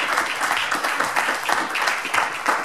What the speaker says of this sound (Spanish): ¿Cuánto le dan un aplauso fuerte al Señor,